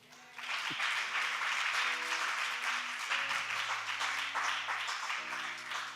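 An audience at a French church service applauding, steady dense clapping that starts abruptly and continues throughout, with some faint voices and music-like tones underneath.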